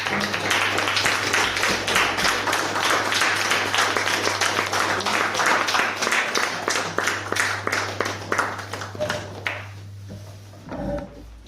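Audience clapping at a speakers forum, dense at first and thinning into scattered individual claps before dying out, over a steady low hum, with a brief voice near the end.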